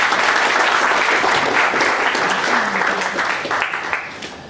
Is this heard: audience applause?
yes